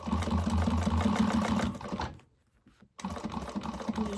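Sewing machine basting a fabric pocket side down, running in rapid mechanical stitching bursts, pausing briefly to near silence for about a second before the needle clatter starts again, close and loud.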